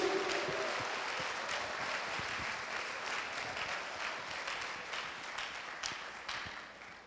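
A church congregation applauds loudly for Jesus, a dense, sustained wash of many hands clapping together that fades slightly toward the end.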